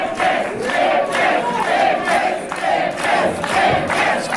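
A wrestling crowd at a Christmas Slam event in an Edmonton arena roars and chants in loud rhythmic surges, dense and continuous throughout with no clear talk.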